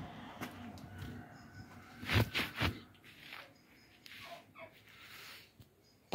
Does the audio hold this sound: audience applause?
no